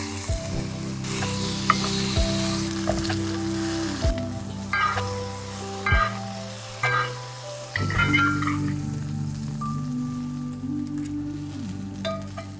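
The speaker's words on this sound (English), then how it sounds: "you're going to cook this in a hot pan with a splash of oil for 2 minutes per side" A New York steak sears in a hot pan with a splash of oil, sizzling and spitting steadily up close, with several pan clanks and shifts as the meat is moved.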